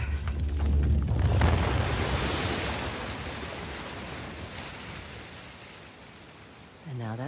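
Water splashing and rushing in Uncharted: The Lost Legacy, a loud broad wash that swells early, then gradually fades to a softer steady hiss.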